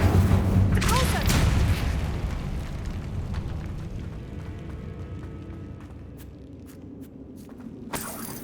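Spells cast in Hogwarts Legacy: a loud burst of magical blasts and booms at the start that fades into a low rumbling tail, with a few sharp pops toward the end.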